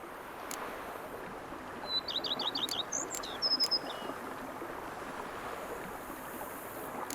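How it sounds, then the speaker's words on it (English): Birdsong in a peaceful setting in The Witcher 3: Blood and Wine, a short run of quick chirps then a few separate tweets over a steady soft ambient wash, no voices. "Bees buzzing, birds chirping."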